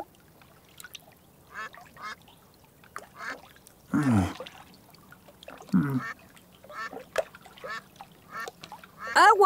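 Ducks quack in short bursts, some loud and close, with light splashing water and a few faint calls in between.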